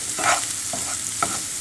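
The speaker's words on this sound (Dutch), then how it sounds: "Weer eventjes goed op elkaar mengen en mee laten bakken." Cumin and spices are stirred through a hot pan for frying, giving soft scraping strokes of a utensil over a steady low sizzle, with no voices.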